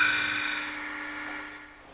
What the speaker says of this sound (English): Shear scraping is created by holding the tool so that the cutting edge is presented to the work at an angle.